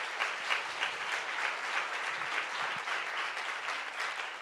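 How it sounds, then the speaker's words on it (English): An audience at a spring synagogue fundraiser evening of music claps warmly, a sustained, even wash of many hands heard from within the room. "I would like everybody to give an applause for that."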